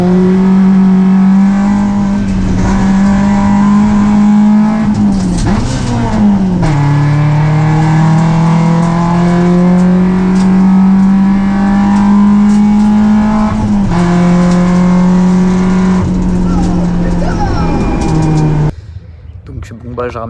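A race car climbs the Moulineaux 2023 hill climb course with a loud engine at close range, holding high revs and surging through several gear shifts before cutting off abruptly near the end.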